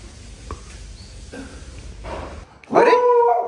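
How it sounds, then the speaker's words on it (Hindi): A pet dog barking at a mattress indoors, with a few soft yips and whimpers, then a loud close sharp bark and whining near the end. "गद्दे को देख के भौंक रहा भाई"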